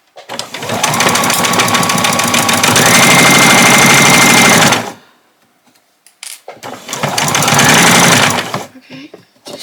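A sewing machine stitches a straight seam on an apron in two loud, rapid bursts of needle chatter, the first about five seconds long and the second shorter, with a brief near-silent pause between them.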